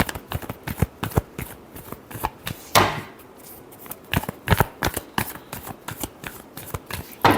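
Tarot cards are shuffled by hand close up in a rapid run of sharp riffling slaps and flicks, irregular in rhythm, with no speech over them.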